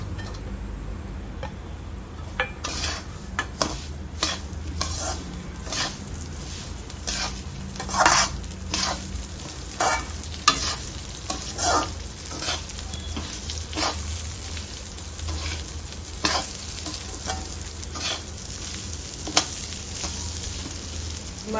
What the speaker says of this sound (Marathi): आपल्या लापशीला चांगला लालसर कलर आलेला आहे छान भाजली आता त्याच्यामध्ये आता आपण मनुके आणि खोबरं टाकून घेऊया